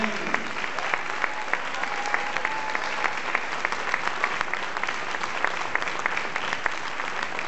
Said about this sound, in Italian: un applauso a questi bambini